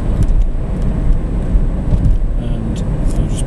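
A Toyota Prius T Spirit on a 55 plate driving over a humpback bridge, heard from inside as a loud, steady low road and engine rumble with slight swells and no talking.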